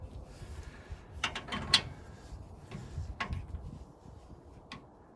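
A ratchet clicks in short bursts while suspension bolts are torqued on a 1936 Chevy coupe, with quiet, sparse clicking spread across a calm shop.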